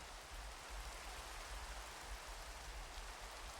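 Constant rain falls in a gloomy, eternal-twilight world in a video game, an even broadband wash of noise with a soft low rumble and no speech.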